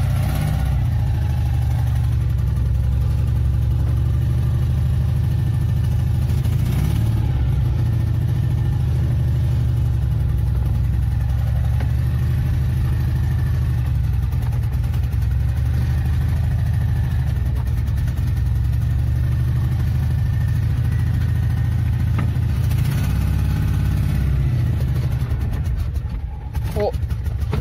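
A Citroën Ami 8's small engine runs in a steady low drone on a driveway, loud and close, with slight swells suggesting movement and a few faint background noises.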